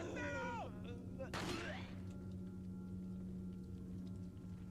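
A single sharp gunshot fired as a headshot at an enemy in Resident Evil 4, a sudden loud crack followed by a sweeping burst and decay, with a steady low hum and tonal game sounds underneath.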